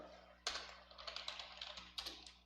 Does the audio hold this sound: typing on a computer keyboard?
yes